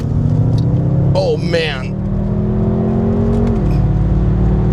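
A tuned BMW M5 engine revs and pulls hard, a loud close drone with rising tones that climb and then drop as it shifts, while a man exclaims over it.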